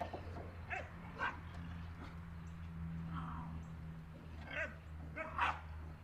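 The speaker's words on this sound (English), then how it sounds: "Damn dogs." Dogs bark in short bursts at a distance outside a barn under repair, several yips and barks spread through the clip over a steady low hum, with no talking.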